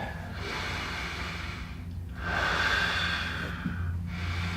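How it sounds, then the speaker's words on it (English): A patient breathing hard through the nose during a painful chiropractic spine treatment: a few slow, loud, rushing inhale and exhale cycles, close up and audible from one breath to the next. "Remember nose breathing."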